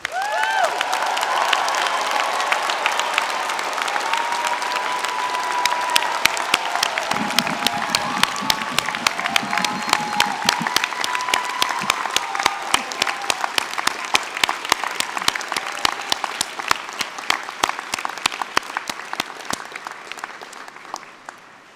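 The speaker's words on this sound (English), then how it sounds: "Everyone, please join me in applauding our new graduates." A large commencement crowd applauds new graduates in a long, sustained ovation, dense clapping with some cheering that tapers slightly toward the end, with no talking over it.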